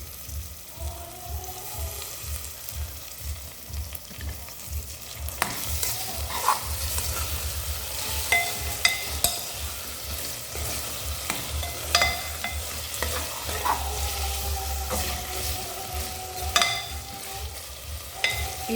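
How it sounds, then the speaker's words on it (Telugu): Tomato pieces sizzle steadily in a pan for biryani while a spoon stirs and scrapes in repeated rhythmic strokes, close and moderately loud, with no talking. "ఈ టమాటాలు కూడా మనం మగ్గించుకుందాం."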